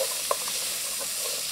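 Onions and chickpeas sizzle in a hot pan, a steady bright frying hiss with a couple of soft knocks and stirring scrapes, close up and without voices.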